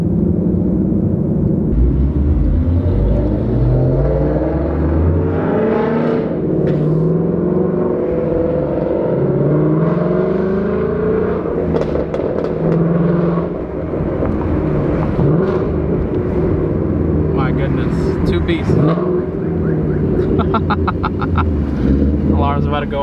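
A loud Ford Mustang 5.0 V8 rumbles steadily while cruising nearby, its deep engine drone mixed with heavy wind buffeting throughout.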